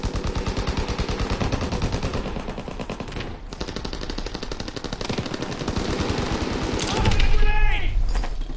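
Rapid, sustained automatic fire from an STG-44 assault rifle in the Call of Duty: WWII private beta, dense bursts running nearly the whole time, growing louder toward the end, with occasional voice underneath.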